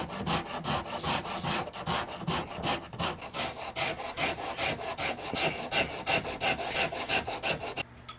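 Fine cut Iwasaki file rasping across a wooden electric guitar fretboard, in quick, even, rhythmic back-and-forth strokes, close and clear with no talking.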